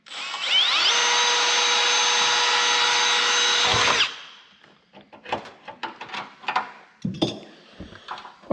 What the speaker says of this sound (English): All right, we're drilling out for the nut certs.